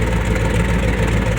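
Car engine idling through a modified dual exhaust fitted for a flame thrower kit, a loud, steady, close low rumble with no crackle or pops.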